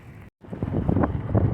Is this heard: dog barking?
no